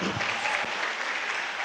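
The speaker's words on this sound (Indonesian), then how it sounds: "Kenapa tepuk tangan nih?" Audience applause at a talk in a hall, steady dense clapping throughout, loud and close, with no break.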